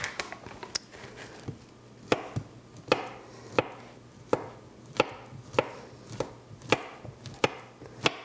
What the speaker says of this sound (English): I'm going to slice up some banana